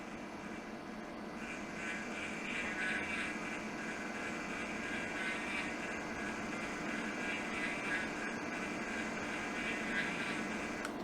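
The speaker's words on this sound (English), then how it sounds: "go down to a lower welding so we can actually hear the wire feed motor" A MIG welder's wire feed motor runs with no load at low wire speed, giving a steady, even whirring drone with a faint tonal whine that holds unchanged throughout.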